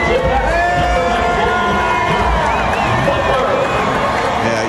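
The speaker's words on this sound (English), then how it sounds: "you can barely hear the announcer in the background as the crowd is just loving on Josh" A large stadium crowd cheers and whoops for a player at a college football senior night, a broad, continuous roar with a distant announcer's voice faintly buried beneath.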